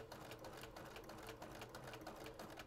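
A sewing machine stitches fabric in a steady, fast, continuous mechanical whir with rapid needle clatter, close up and alone, piecing flying geese quilt blocks.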